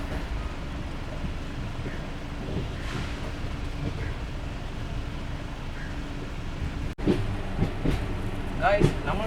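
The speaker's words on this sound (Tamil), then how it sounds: "நம்ம ட்ரெயின் இப்போ பார்த்தீங்கன்னா ஆன் டைமில் கொச்சுவேலி ஸ்டேஷன்லேருந்து டிபார்ட் ஆகிடுச்சுங்க" The Garib Rath Express pulls out of Kochuveli station with a steady low rumble and rattle of moving carriages. A voice talks over it throughout, and a brief knock near the end is followed by a few sharper clatters.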